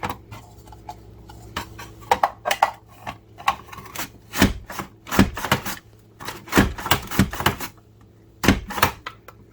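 A DASH Safe Slice mandoline slicer cutting vegetables for soup, with a series of close, sharp chopping clacks and scraping strokes in an irregular rhythm, heard alone over a faint background hum.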